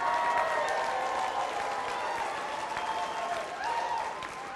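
Keynote conference audience applauding steadily, a dense wash of clapping with some cheering that holds loud for several seconds and fades slightly toward the end.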